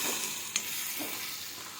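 Gongura boti curry stirred in a pan, a soft sizzle with a quick scrape of the spoon, brief and close.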